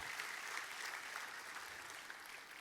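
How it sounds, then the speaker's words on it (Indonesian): A church congregation at an Indonesian worship service claps steadily together, a soft, distant wash of applause that holds evenly throughout with no voices above it. "Dan kita kasih tepuk tangan yang paling meriah buat Tuhan."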